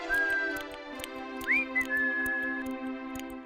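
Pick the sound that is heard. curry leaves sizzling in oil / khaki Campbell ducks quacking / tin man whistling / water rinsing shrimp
tin man whistling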